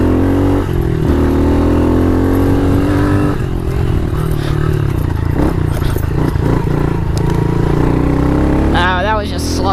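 A pitbike engine revving hard while being ridden, a loud continuous buzzing drone with rising and falling revs and rattling clatter; a voice is heard briefly near the end.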